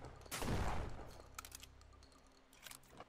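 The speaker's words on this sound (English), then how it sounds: "this is a fast shotgun" A fast shotgun fires in the video game Haven's Compass, one heavy booming blast at the start followed by a decaying tail and faint mechanical clicks.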